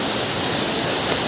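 Ermai Falls waterfall in Karnataka roars as a loud, steady, broadband rush of falling water, continuous and close with no pauses or voices.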